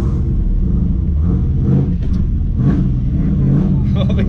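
A fourth-generation Camaro fitted with a nitrous kit rumbles loud and close, its engine note rising and falling in aggressive revs, with people talking over it.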